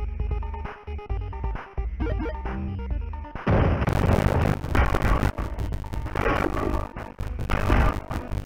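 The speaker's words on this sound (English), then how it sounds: "Fire your cannons!" Heavy booming cannon blasts pound repeatedly over a dense, chaotic soundtrack in the video game Reset Generation, loud and crashing.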